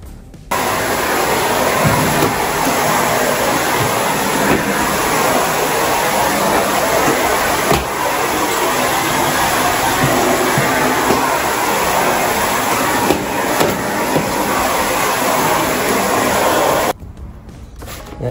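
Vacuum cleaner running steadily while cleaning an office building, a loud continuous whooshing drone that holds for about sixteen seconds before cutting off, with no talk over it.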